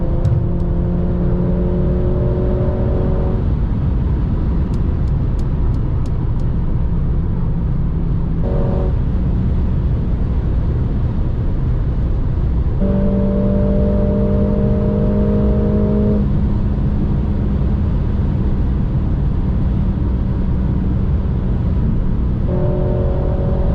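A 2021 Mercedes GLA 45 S AMG accelerating hard on the Autobahn, a loud close engine roar rising through the gears with brief shift dips, continuous and without talk.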